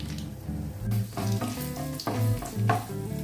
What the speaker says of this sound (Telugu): హోల్ గరం మసాలా లైట్గా, అలాగే జీడిపప్పు అండ్ శనగపప్పు, మినపప్పు, ఇవి దోరగా వేయించుకుందాం